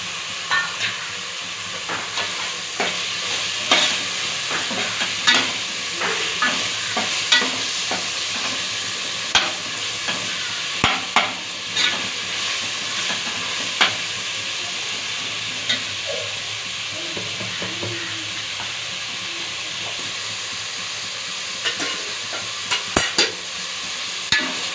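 Tomatoes frying in a pot with mint for mutton biryani, stirred steadily: a constant close sizzle broken by irregular scraping clicks of the spoon against the pot, with no one talking.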